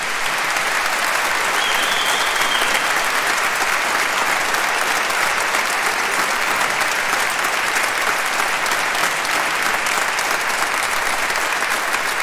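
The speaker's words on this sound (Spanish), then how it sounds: "Un aplauso para ellos." An audience at a concert of young musicians claps long and hard, a thick, even wall of applause lasting over twelve seconds with no talking on top.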